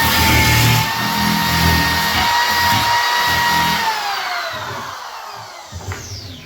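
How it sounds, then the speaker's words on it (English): A wire wheel grinds rust off the window frame of a 1937 Pierce Arrow travel trailer, a loud, close whining buzz that holds steady and then sags slightly in pitch as pressure changes. "I'm just taking the wire wheel for the most part and going along and getting everything out of there that I can."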